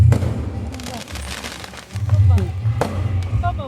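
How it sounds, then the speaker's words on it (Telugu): Firecrackers burst during a village Sri Rama Navami festival, with sharp cracks and pops over a dense, noisy crowd and voices. "క్రాకర్స్ అయితే ఎన్ని వేసారో"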